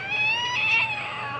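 A person's voice imitating a cat's meow, a short drawn-out whining mew heard close and clear on its own.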